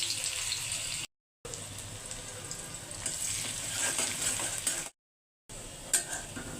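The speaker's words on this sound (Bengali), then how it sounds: "ডাল হয়ে গেছে এখন বাগার দিয়ে দেবো" Spices tempered in hot oil for cooked dal, a steady close sizzle and frying hiss with faint stirring clatter, interrupted by two short silent gaps.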